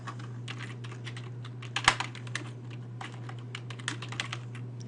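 Steady typing on a computer keyboard, a run of close, crisp key clicks with an uneven rhythm and one sharper, louder keystroke, set over a constant low electrical hum.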